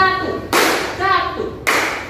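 Single sharp claps ring out at regular intervals from a classroom group doing a one-clap rhythm, with voices and harmonic speech tones between and under them.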